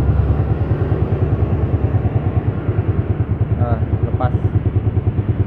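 A Yamaha Vixion motorcycle engine with a weak battery idles close by with a fast, steady putter while someone speaks briefly over it; no strong rev is evident.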